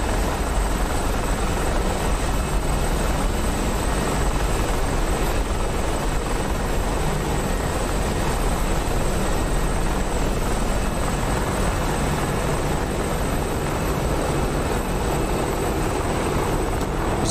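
Attack helicopter in the DCS combat flight simulator, flying steadily with a continuous loud rotor and turbine drone that holds constant throughout, no voices.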